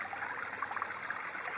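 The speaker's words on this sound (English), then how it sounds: "some air comes out, and then gurgles a whole bunch of water in" A hose gurgles water into a koi pond filter in a continuous bubbling trickle, close and steady with small splashy spurts, no talk.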